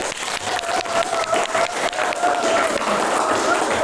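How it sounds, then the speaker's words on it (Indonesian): Applause for group 3 in a classroom: a dense, steady patter of many hands clapping at close range, sustained evenly throughout with a faint voice audible underneath. "kita beri aplaus buat kelompok 3"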